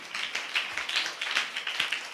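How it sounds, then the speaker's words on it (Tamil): A Tamil church congregation claps their hands in thanks to the Lord, giving a quick, steady patter of many hands at moderate volume with no voices on top. "நல்ல கைத்தட்டி ஆண்டவருக்கு நன்றி சொல்லுங்க"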